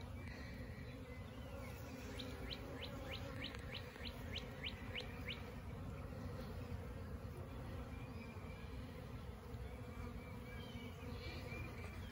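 Honey bee swarm scouts investigate a wooden box coated with propolis and wax, a steady close buzzing hum throughout with a series of high chirping bird calls early on, no voices.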